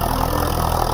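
A tractor loaded with manure idles loudly close by in a farm field, its engine giving a steady, rhythmic low chugging with no voices.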